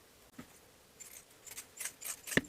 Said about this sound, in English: Trim this seam allowance using pinking shears if you have them.